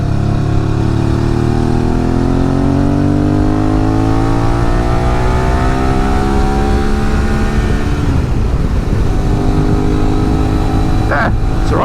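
A Suzuki V-Strom 650 motorcycle carrying a pillion accelerates loudly through the gears on the road, its engine note climbing smoothly before a quick short shift drops the pitch, with heavy wind rush throughout.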